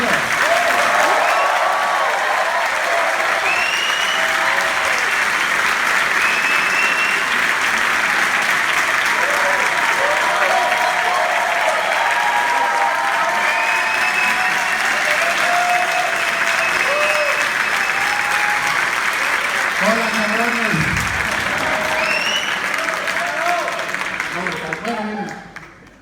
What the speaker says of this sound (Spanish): Así que vamos a recibir con un fuerte aplauso a Guillermo del Toro.